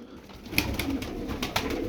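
Tumbler pigeons, flying play birds, give soft repeated coos at close range, a few short pulses over quiet background.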